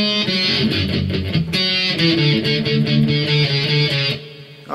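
Distorted electric guitar plays the first section of the solo from a song, sustained bent notes and quick picked runs, loud and up close with no voices.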